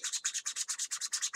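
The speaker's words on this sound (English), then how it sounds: "we're sanding down those layer lines so they're still going to be there a little bit" Fast back-and-forth sanding of layer lines on an Estes Viking model rocket nose cone, with about fourteen quick, even rubbing strokes close up and no other sound.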